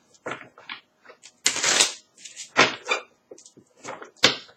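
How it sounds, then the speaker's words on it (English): A deck of tarot cards is shuffled by hand in several quick bursts, crisp riffling and slapping bursts separated by short pauses, close and clear with no talking. "Allow me to shuffle."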